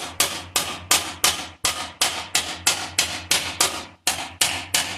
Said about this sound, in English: close the edge with the hammer